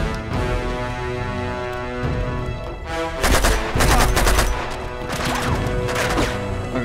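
Gunfire in Uncharted 2: Among Thieves, with scattered shots turning into loud, rapid volleys of cracks over a tonal game soundtrack.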